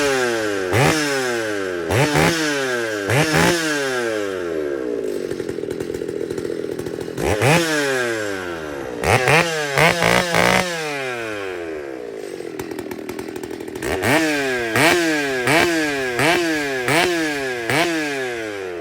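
A chainsaw with a modified, ported exhaust is revved hard again and again, its loud raspy roar climbing and falling between rougher idle stretches.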